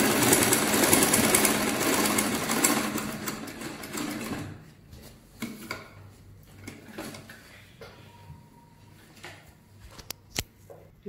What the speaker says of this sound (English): change your stitch to the longest in your machine, and you continue to sew